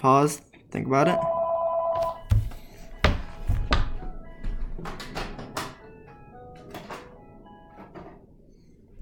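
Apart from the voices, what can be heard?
telephone ringing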